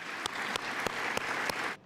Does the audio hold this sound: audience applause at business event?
yes